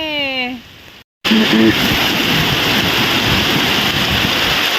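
Sudden rain at Tagkawayan city beach, a broad steady hiss of rainfall that begins after a brief cutoff and continues loudly to the end, with short voices heard at the start.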